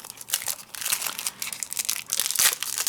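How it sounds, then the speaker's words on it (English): Scissors snip through cardstock and clear acetate for a slimline shaker card, giving a busy run of crisp, crinkly cuts close by with no talking. "So I'm just going to go ahead and cut them."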